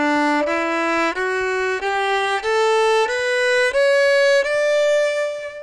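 Bowed string instrument playing a simple series of string crossings with no bow shaping, about eight even notes stepping upward in pitch, each sustained at steady loudness with brief breaks between them, close and alone.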